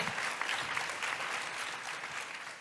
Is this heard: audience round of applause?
yes